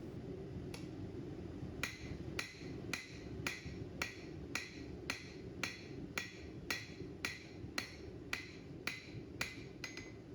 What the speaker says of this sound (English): pull your material backwards underneath your hammer strikes